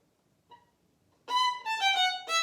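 Violin playing a passage from a Vivaldi piece: one faint short note, then a run of bright, bowed notes with rich harmonics, close and unaccompanied.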